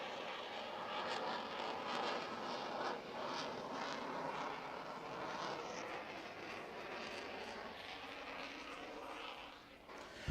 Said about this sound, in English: The Super Hornet is now setting up for a high-speed pass to an idle vertical climb.